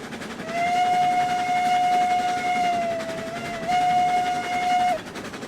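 The steam locomotive Montezuma in the game RailRoads Online sounds a loud, steady whistle held for several seconds, briefly dips, then blows again, over the chuffing rumble of the running engine.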